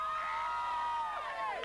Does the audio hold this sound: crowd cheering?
yes